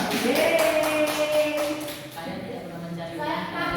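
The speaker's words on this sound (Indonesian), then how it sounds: "Tepuk tangan nak buat kelompok 3." A school economics class claps for group 3, quick rhythmic hand claps mixed with voices in the classroom, fading as the room settles.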